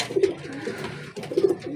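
Jan Aarden racing pigeons coo close by in two soft, throaty bursts with a short pause between them.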